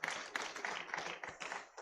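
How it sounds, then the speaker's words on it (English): Audience applause for a chairman at a pharmaceutical society mid-year review meeting and public lecture, a brief, fairly faint burst of overlapping hand claps in a hall. "Please, a round of applause for our dear chairman."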